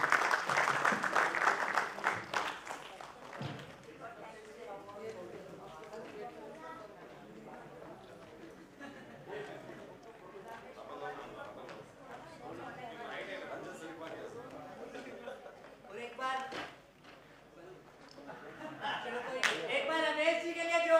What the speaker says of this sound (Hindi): तो एक बार जोर से क्लैप कर दो